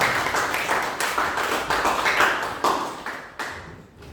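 Classroom of student teachers clapping after a biology lesson, a short burst of applause with a few sharper claps standing out, fairly close and loud with no clear talking.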